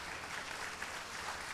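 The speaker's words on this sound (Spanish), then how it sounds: "Por favor, nuevamente aplausos para él." An audience at the opening session of an annual conference for public-sector executives applauds. The clapping is faint and distant, a soft, even patter that never rises or breaks.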